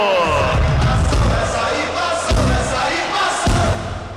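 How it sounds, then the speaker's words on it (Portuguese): A football stadium crowd roars at a goal in a match involving XV de Jaú, heard through a radio broadcast as a loud, dense, sustained roar with a few heavy thumps, fading slightly at the end. "Você viu o grito da torcida?"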